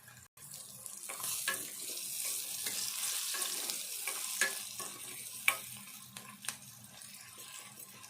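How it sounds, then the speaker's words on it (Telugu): Onions fry in a pan for an eggplant curry with a soft, steady sizzle, broken by occasional clinks and scrapes of a spoon stirring them. "ఉల్లిపాయ కూడా వేగాలి."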